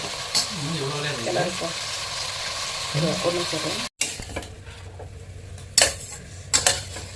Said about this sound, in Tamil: கறி வந்துட்டு இப்போ ஒரு அஞ்சு நிமிஷம் நல்லா வதங்கிடுச்சு